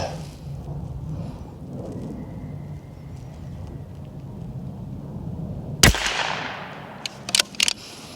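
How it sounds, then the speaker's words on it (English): An Anschütz Fortner 1727F rifle fires a single sharp shot late on, following a stretch of quiet outdoor ambience, with a few fainter clicks from the action handled just afterward. "Let me go ahead and do a second shot."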